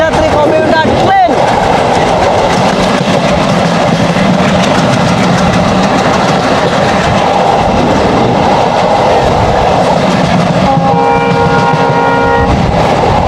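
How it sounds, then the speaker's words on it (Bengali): The Abhijatri commuter train rolls through open fields, a loud continuous rumble and rattle of wheels and coaches heard from inside a carriage, with a brief whining tone near the end and no voices. "মাঠের ভিতর দিয়ে যাচ্ছি, ছুটে চলেছে আমাদের অভিযাত্রী কমিউটার ট্রেন।"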